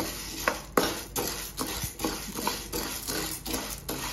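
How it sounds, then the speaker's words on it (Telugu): Toor dal (pigeon peas) being dry-fried in a pan on a stove, a steady scraping stir with light dry rattling and clinks of a spoon against the pan, repeating every half second or so, close and fairly quiet with no talk. "ఈ కందిపప్పును వేసుకొని లైట్గా ఫ్రై చేసుకోవాలి"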